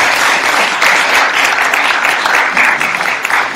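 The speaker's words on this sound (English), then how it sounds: "Can we give them a round of applause?" Audience at a civil liberties panel held at a Holocaust museum applauding its hosts, a loud, close, continuous round of clapping from a packed room that runs throughout with no speech.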